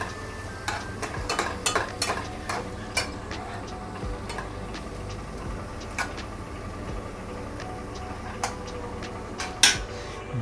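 An onion and tomato mixture is stirred as it fries in a pan, with a steady low sizzle and frequent sharp scraping clicks of the spoon against the pan, close by.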